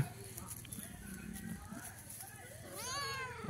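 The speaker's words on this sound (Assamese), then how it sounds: "এইটো মোৰ মেকুৰীটো দেই" A cat meows once near the end, a clear rising-and-falling cry, after a stretch of quiet indoor background noise.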